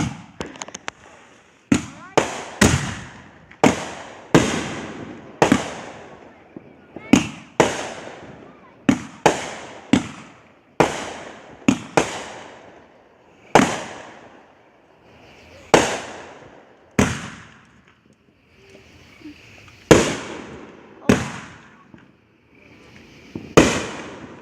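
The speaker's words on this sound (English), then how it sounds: "Here's the grand finale. It might be a little loud." Fourth of July fireworks grand finale going off close overhead. Loud, sharp bangs come in quick irregular bursts, about twenty blasts with crackling decays between them, and a voice is faintly heard at times.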